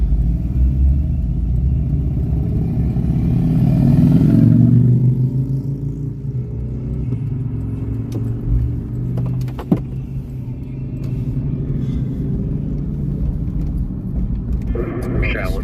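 A small truck's engine rumbling outdoors at night, a steady low drone that swells briefly then settles into an idle, with a sharp click partway through and people talking over it.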